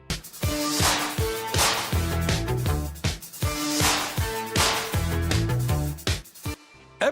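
A 1980 new wave synth-pop song plays loud and continuous, with a driving beat, synth lines and sharp percussive hits until it cuts off at the end.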